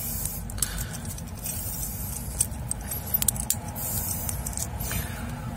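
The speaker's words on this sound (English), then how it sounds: "Let me put on the watch." An Alba World Time chronograph on a metal bracelet is handled and fastened, giving soft metallic jingles and small clicks, a few sharper taps near the middle, close and fairly quiet over steady background hiss.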